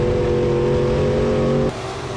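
A B-mod race car lapping at Springfield Raceway gives a loud, steady engine drone at close range, then the tone cuts off abruptly and drops to a quieter rumble near the end.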